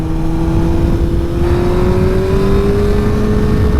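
A Suzuki GSX-R 600 sport motorcycle pulls strongly under acceleration, its engine note rising steadily and loudly throughout, heard close up on a first ride with wind rush underneath.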